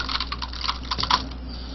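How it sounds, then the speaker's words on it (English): Short bursts of typing on a computer keyboard during an online Christmas Dungeons & Dragons session, faint and steady clicks heard over a low background hum with no talking. "Typing something."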